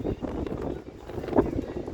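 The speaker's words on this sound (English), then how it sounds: "Quite windy." Wind at a beach rumbles and buffets against the microphone throughout, a steady low roar with gusty swells.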